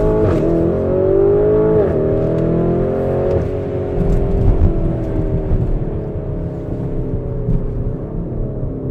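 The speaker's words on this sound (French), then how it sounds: "techniquement, on va avoir la pleine puissance de la voiture avec la boîte" A Lamborghini Urus in Corsa mode accelerating at full power, its engine note climbing steadily and loud through the gears, then easing off, with no talk over it.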